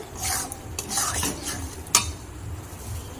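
A thick dough-like mixture with salt is stirred in a pan for dal puri, a utensil scraping and clinking against the metal in steady strokes, close and fairly quiet, with one sharper knock partway through.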